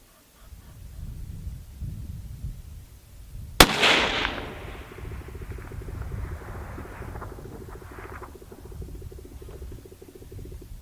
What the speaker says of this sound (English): I love shooting this rifle.